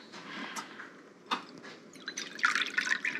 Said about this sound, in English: add water instead